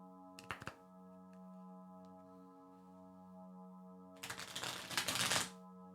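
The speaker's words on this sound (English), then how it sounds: "shuffling the deck." A tarot card deck is shuffled up close, a short riffle early on and then a longer, louder burst of rapid card flutter, both over a steady electronic hum.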